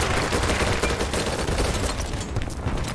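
Dense gunfire in BattleBit Remastered rattles continuously at close range, a loud, unbroken barrage of overlapping shots with no pause.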